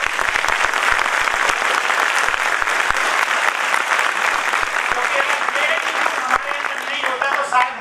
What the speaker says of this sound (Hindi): जोरदार तालियां आप सब।